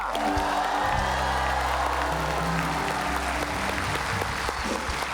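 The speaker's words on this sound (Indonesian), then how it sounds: "Berikan tepuk tangan yang meriah untuk Demian Aditya." A live audience at a magic show applauds loudly and continuously, a thick wash of clapping mixed with some cheering, over a low steady hum and faint background music.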